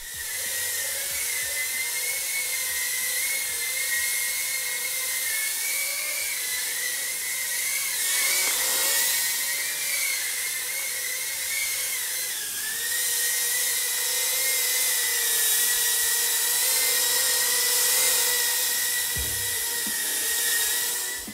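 An Eachine E011 toy-grade micro drone flies nearby, its tiny propellers giving off a steady high-pitched whine. The whine rises and dips slightly as the drone maneuvers, and there is no talking.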